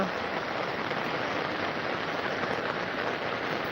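Heavy monsoon rain in Konkan, with rainwater running along a road as a dense, continuous hiss and rush of water. It holds at an even loudness throughout, with no voices.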